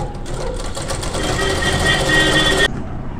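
A sewing machine stitches the sleeve of a kurti in a steady, close whirring run that stops abruptly near the end, leaving a quieter background.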